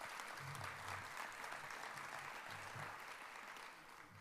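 Audience applause fills a theater during a 25th anniversary season announcement at the Weidner Center, a dense, steady wash of clapping from a large crowd that holds throughout and eases slightly at the end.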